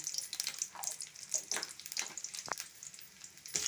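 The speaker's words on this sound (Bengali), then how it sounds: "শুকনো লঙ্কা দিয়ে এই যে আমি একটু গোটা জিরে ফোড়ন দিলাম" Whole cumin seeds and a dry red chili fry in hot oil, a fluttering close sizzle with scattered crackles and one brief sharp pop, quiet overall and without speech.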